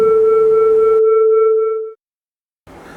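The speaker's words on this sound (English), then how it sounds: "Two pure tones or complex tones very close in frequency are heard by the listener as beats" A loud, steady electronic tone of two pure tones very close in frequency, beating in a faint wavering pulse, rings for about two seconds, then cuts to silence before a soft hiss returns.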